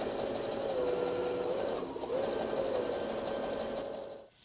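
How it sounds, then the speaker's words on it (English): A sewing machine runs a zigzag stitch along the edge of polar fleece, giving a steady, close, continuous mechanical whir with a faint tonal whine. It slows briefly midway, then stops at the end, and nobody talks. "set your machine to a zigzag stitch, and you're going to stitch along the edge"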